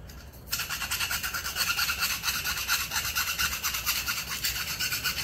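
Rhythmic rasping strokes of a file shaving the beveled edge of an Air Venturi Avenger airgun shroud, close and steady with even back-and-forth scrapes after a quiet start.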